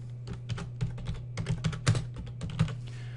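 Typing on a computer keyboard while entering bulleted text into a presentation text placeholder, a steady run of soft, close keystroke clicks at an uneven rhythm with no speech over them.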